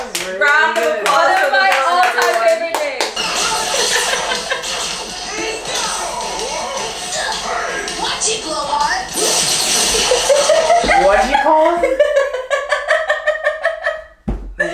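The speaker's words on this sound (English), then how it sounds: "Round of applause." Loud, sustained applause with dense hand clapping from a crowd, swelling and fading, with voices and cheers mixed in and a few scattered claps at the end.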